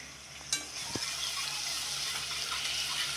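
Garlic dropped into hot oil sets off a sudden sizzle that builds into a steady, bright frying hiss, close and continuous, with a few faint clinks from the pan near the start.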